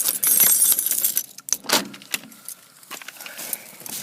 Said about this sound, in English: Reaching for keys.